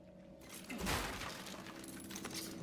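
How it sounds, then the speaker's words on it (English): In a video game, a crate is smashed on a table. A single sharp crash of breaking wood bursts out near the middle, fairly close and moderately loud, with scattered clatter trailing after it. "He smashes a crate on a table."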